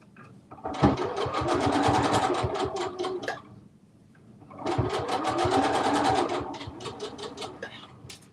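A sewing machine runs in two bursts, back stitching a seam on a garment, its needle chattering rapidly and fairly loud with a short pause between runs.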